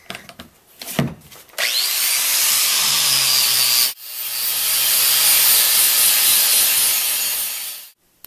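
A 3M bristle disc on a spinning tool abrades a surface in two long, loud, steady hissing passes separated by a brief stop, with a few clunks at the start.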